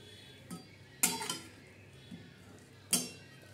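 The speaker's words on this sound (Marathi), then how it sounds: "आता ह्या पद्धतीने चांगलं हलवून घेऊ" A spoon scraping and knocking against a pan while cabbage, potatoes and tomatoes are stirred together, a few sharp clinks and scrapes spaced irregularly over quiet background.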